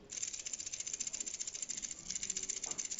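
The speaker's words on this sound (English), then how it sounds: "Not the sound of a quality strap bracelet, is it?" Cheap metal bracelet strap on a Caseno GMT watch shaken close up, giving a continuous bright, tinny rattle and jangle of loose links, fairly quiet and steady for a few seconds.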